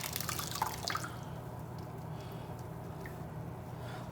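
Water wrung out of a soaked makeup sponge being cleaned of foundation, giving a brief wet squish and dripping spatter up close at the start before fading into a low, steady background.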